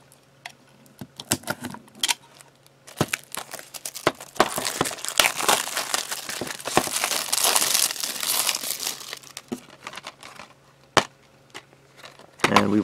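Packaging of a Star Wars Racer Revenge PS4 limited-run game being opened, with crinkling plastic wrap and sharp tearing and clicking sounds, close and irregular, building into a dense crackle then easing off into scattered snaps.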